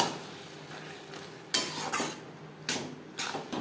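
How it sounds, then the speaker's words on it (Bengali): Boiled chickpeas tipped into a pan of cooking spices for chana masala with mutton fat and stirred, giving a few sharp clatters and scrapes of a spoon against the metal pan over a soft background hiss. "দিয়ে দেবো সেদ্ধ করে রাখা কাবলি চানা"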